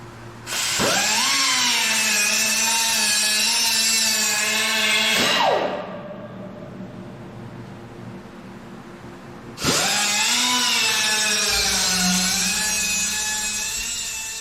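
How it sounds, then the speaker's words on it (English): A small 3-inch air grinder cuts through a steel tube on a Super Cub fuselage build, whining loud and steady with a pitch dip as it bites, pausing briefly, then spinning up and cutting again. "So this is just a little 3-inch air grinder. I'll get rid of this tube."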